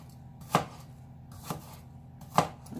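A knife chops an onion on a cutting board for a quiche, three sharp, separate thuds spaced about a second apart in a quiet kitchen.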